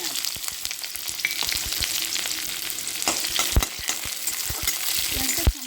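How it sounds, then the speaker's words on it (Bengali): Finely chopped onion frying in oil with panch phoron and spinach, a close, steady sizzle broken by frequent sharp clacks and scrapes of a stirring spoon against the pan. "চলো পেঁয়াজটা একটুখানি ভেজে নিই।"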